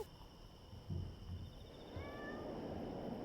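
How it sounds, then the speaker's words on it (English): A cat meowing in House of Da Vinci 3, a single faint drawn-out meow near the end over quiet game ambience with a couple of soft thuds before it. "Oh, I heard a kitty."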